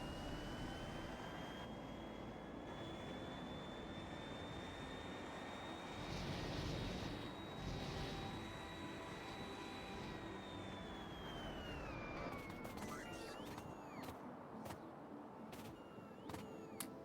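Plane in the factory-building game Factorio flying with a steady, sustained jet-engine drone that swells briefly midway, then thins out near the end amid some sharp clicks.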